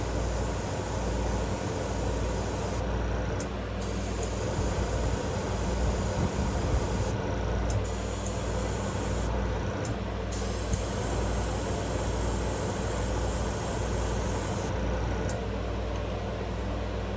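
An airbrush sprays paint onto a crankbait fishing lure during a repaint, a continuous close hiss with short breaks where the trigger is released, over a steady low compressor rumble.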